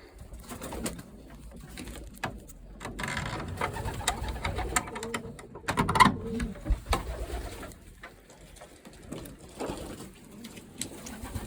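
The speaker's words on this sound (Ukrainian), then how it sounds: "Так, чорне білольоте, голубенятко." Young black pigeon with white flights cooing in a loft, soft repeated coos with rustling and occasional handling noises, close and fairly quiet.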